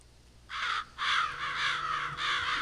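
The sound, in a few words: crows cawing in the video game Psychonauts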